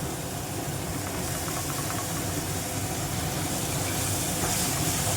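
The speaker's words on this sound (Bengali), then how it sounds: "রসুন পেঁয়াজ আর লঙ্কাটা পেস্ট করে রেখেছি সেটা ঢেলে দিলাম" Garlic, onion and chili paste poured into a hot pan of oil, setting off a loud, dense, steady hiss and sizzle that stays even for about five seconds with no one talking.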